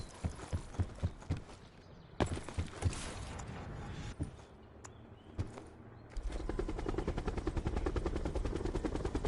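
A helicopter in the Call of Duty: Black Ops 4 Blackout battle royale video game, its rotor building into a steady, rapid thudding pulse in the final seconds after scattered sharp game effects.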